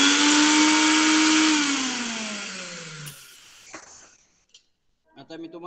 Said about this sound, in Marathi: हे आपल्याकडे रनिंग मिक्सर आहे, ते तुम्हाला मी चालू करून दाखवतो आधी